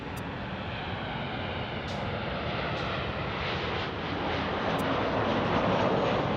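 A WestJet airliner arriving at Los Angeles International Airport makes a steady, broad engine roar that swells slightly louder as it approaches, heard from a distance outdoors with some wind.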